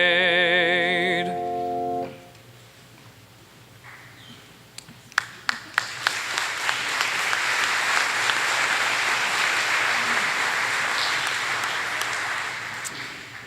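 A convocation audience bursts into applause after a sung alma mater closes, clapping swelling to a sustained loud roar that fades near the end.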